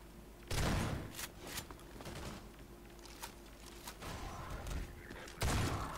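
Shotgun fire from an enemy in Half-Life 2 with the MMod mod: two heavy, booming blasts several seconds apart, with fainter scattered gunshots and game noise between them, fairly quiet overall and without talk.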